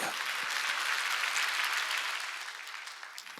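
A church congregation during a Sunday service breaks into dense, steady applause that gradually thins out over a few seconds.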